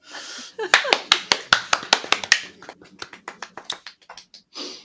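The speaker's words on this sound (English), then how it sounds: "Everybody clap." Podcast hosts clap by hand in a small room, a quick run of sharp, close claps that loosens into lighter, scattered ones before fading, with a voice briefly under them.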